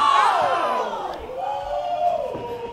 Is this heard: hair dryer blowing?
no